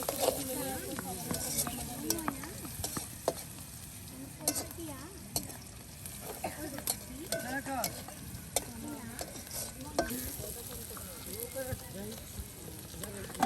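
Ground spice paste and powdered spices fry in a pan for a silver fish bhuna cooked outdoors by a riverbank. There is continuous sizzling with irregular stirring scrapes and clicks throughout.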